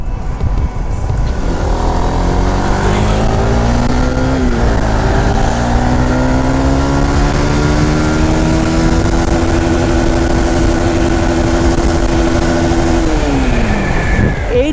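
A Honda CBR 150R Indo motorcycle engine pulls hard in third gear, its loud, near whine climbing steadily in pitch for over ten seconds before dropping off sharply at a shift or throttle release.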